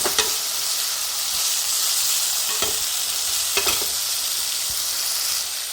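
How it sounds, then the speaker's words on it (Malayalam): Ingredients for a mackerel curry sauté with salt in a pan, giving a steady close sizzle throughout, broken by a few sharp spatula scrapes against the pan, with no talking. "കുറച്ച് ഉപ്പ് ചേർത്ത് കൊടുക്കാം നന്നായി ഒന്ന് വഴറ്റിയെടുക്കണം"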